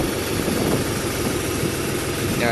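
A loud, steady tractor engine drones continuously at close range while ploughing, a heavy low rumble with no pauses.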